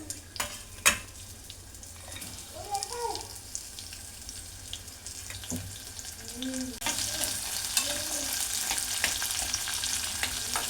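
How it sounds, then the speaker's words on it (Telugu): Spices fry in hot oil for a tempering for pappu charu, a steady close sizzle with stirring clicks and scrapes, swelling into a louder, brighter crackle over the second half. "ఇప్పుడు వేపుకోవాలి."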